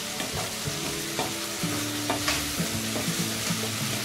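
Green chillies fry in hot oil in a pan for dal vangi, a dense, steady sizzle with spluttering crackles and recurring stirring scrapes, close and loud throughout with no talk.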